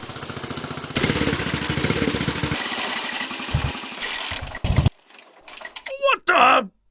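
Honda motorcycle engine bored out to 220cc, short-stroke type, running with a steady rapid put-put pulse for several seconds, then abruptly cut off and followed by voices.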